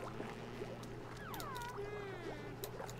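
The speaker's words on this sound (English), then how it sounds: "Listen at them flush." Toilets flushing in the video game Oxygen Not Included: faint gurgling water with several swooping, whistly cartoon flush tones layered over a low steady hum, no talking.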